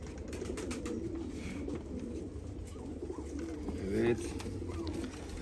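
Low, soft cooing of Akbaş pigeons, one blue and one red, runs steadily throughout, with someone talking over it and a few faint chirps in the background.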